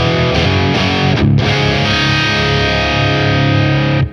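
An electric guitar played through a Walrus Audio EB-10 preamp EQ with the boost on, giving a thick, distorted, sustained chord sound. A short break comes early, then the chords ring loud until they cut off.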